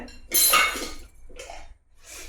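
A metal lid set onto a pot of potato stew, giving one bright clanging clatter followed by two softer metallic knocks and rattles, close and alone.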